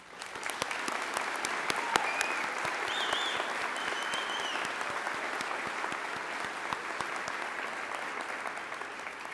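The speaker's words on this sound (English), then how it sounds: "Faculty, staff, audience, please take a moment to applaud and celebrate our graduates once more." Sustained, dense applause from an audience at a nurses pinning ceremony celebrating graduates, a steady wash of many hands clapping at an even level throughout, with a few faint voices and cheers mixed in.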